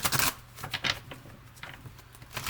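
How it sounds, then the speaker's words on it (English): A deck of cards is shuffled by hand during a spiritual card reading: a few short, crisp riffling bursts, close and fairly loud, with quiet gaps between them. "If I could shuffle."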